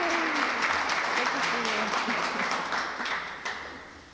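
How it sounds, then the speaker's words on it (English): Loud, sustained applause from an audience at the 2023 Women of Distinction Awards as an honoree is called up, steady dense clapping that gradually tapers off toward the end. "a big round of applause for our next woman of distinction"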